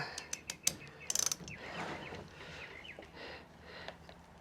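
A 3/8-inch drive ratchet tightens the cooling fan bolts on a 1996–2004 Nissan Pathfinder, giving a few sharp clicks and then a quick burst of close ratcheting pawl clicks, followed by softer handling noise.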